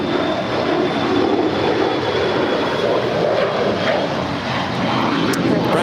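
A jet airliner roars steadily on takeoff from runway 25 right at LAX, a loud broad engine rush heard from nearby.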